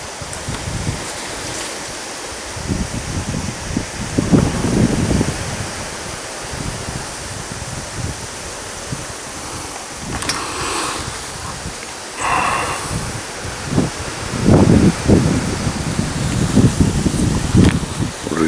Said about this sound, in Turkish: rüzgar var rüzgardan